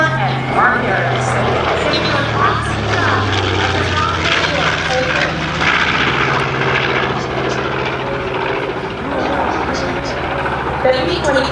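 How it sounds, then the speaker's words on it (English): Piston engines of a B-25 bomber droning steadily at an airshow as it passes, a loud continuous rumble filling the whole stretch with crowd or announcer noise mixed underneath. "From right to left, the B-25 is official, flown by Alan Miller and Mark Harris."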